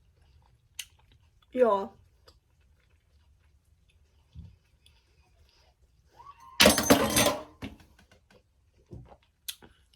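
Someone takes bites of a hot, freshly baked home-cooked dish straight from the oven, a few close, wet chewing bursts separated by quiet pauses, with a brief spoken word partway through.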